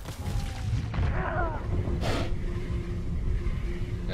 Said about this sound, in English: Got a couple shots off.